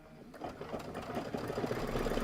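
An embroidery machine stitches out a cup design, a fast steady mechanical clatter of the needle that is close and fairly quiet and runs on without pause.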